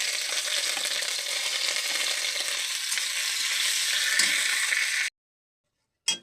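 Cumin seeds with ginger and garlic frying in hot oil for a mixed vegetable dish, a loud, dense, continuous close sizzle that cuts off abruptly, followed by silence and a brief final burst.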